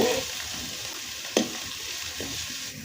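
Chopped garlic stir-fries for mulberry pickle in a steady, close sizzle, with one sharp clank of a utensil against the pan and soft stirring scrapes.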